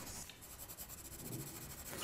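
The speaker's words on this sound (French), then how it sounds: "Et on va recouvrir entièrement le dessin à l'envers, en fait." A soft 4B pencil shades across the back of tracing paper in quick, even back-and-forth strokes, a close, quiet scratchy rasp repeating steadily with no voices.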